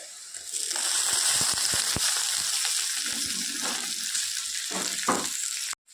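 Cashews and raisins fry in a pan, producing a steady, bright sizzle with occasional pops and stirring clinks, fairly close, with no talking.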